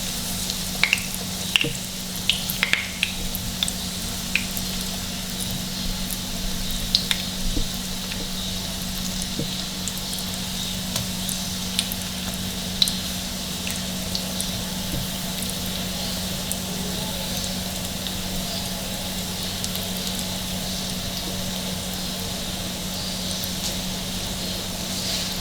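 Chicken nuggets fry in a pan on low heat with a steady, even sizzle and occasional small crackles, continuous and close, with no one speaking.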